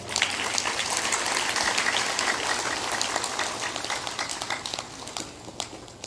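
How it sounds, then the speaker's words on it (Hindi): An audience at a spiritual discourse claps steadily, a soft, fairly distant patter of many hands that thins into scattered claps near the end. "बजा सकते हो ताली, कोई बात नहीं।"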